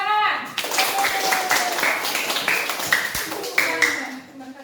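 A classroom group claps hands after a presentation, bursts of quick claps ringing fairly close, with voices talking over parts of it.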